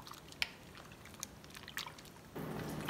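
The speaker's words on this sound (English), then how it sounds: "And I'm gonna add a cup of water." A cup of water is poured into a pot of green beans and other vegetables. After a few faint drips and soft squishy handling noises, a steady splashing pour begins near the end and continues, quiet but close.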